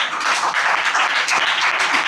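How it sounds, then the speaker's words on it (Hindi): Congregation clapping at a Sunday prayer service, a dense, steady wash of many hands that holds fairly loud and even throughout. "बजाओ ताली।"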